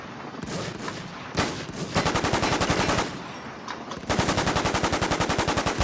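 Rapid automatic gunfire in the survival shooter WarZ, loud bursts of fast repeating shots broken by short pauses, with no talking.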